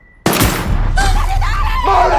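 Gunfire from a sniper in an action film about a retiring assassin, a sharp loud burst followed by a dense, continuous roar of shots and debris, with voices crying out over the din.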